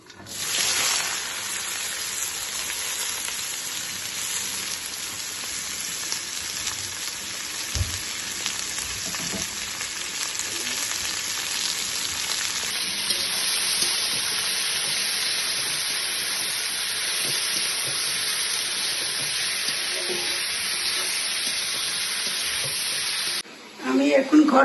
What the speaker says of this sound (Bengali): এরপরে এগুলো কুঁদরি আলু একসাথে ভাজা হবে।